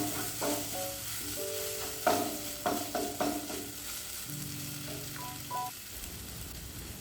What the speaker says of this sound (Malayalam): അത് നന്നായിട്ട് ഇളക്കി നന്നായിട്ട് വഴറ്റി എണ്ണ തെളിയുന്നത് വരെ വഴറ്റിയെടുക്കുക.